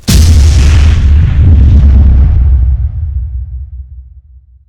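A large, rapid explosion from combustion of a fuel mix: a loud, deep boom erupts at once, then rolls and rumbles as it slowly fades over several seconds, with no voices.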